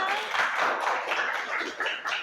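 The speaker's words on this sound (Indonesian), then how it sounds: "Ya, boleh tepuk tangan." Students clap together in a classroom during a disaster mitigation lesson, a fairly quiet, uneven patter of hand claps that keeps going briefly with a faint voice or two mixed in.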